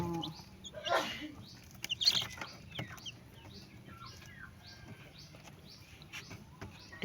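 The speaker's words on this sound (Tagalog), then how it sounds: "Ayan no, ang bagong sisiyo" Newly hatched chicks peep and chirp in a small backyard batch, thin high calls scattered across the clip, with a louder fowl cluck near the start and faint background noise.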